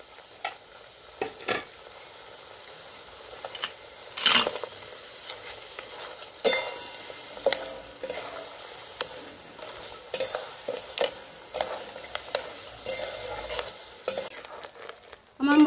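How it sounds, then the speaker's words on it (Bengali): Fried sea crabs are stirred into a sizzling spice masala in a pan, a soft continuous fry punctuated by irregular scraping and clinking strokes of a spoon, close and without talk. "এবার ভেজে রাখা কাঁকড়াগুলো দিয়ে দেবো।"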